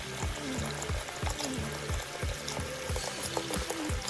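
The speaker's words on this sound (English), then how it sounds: "the first thing that I like to do is, of course, run the water" Tap water runs steadily into a plugged sink, a continuous pouring splash with rhythmic low gurgles and bubbling as the water level rises, close and alone.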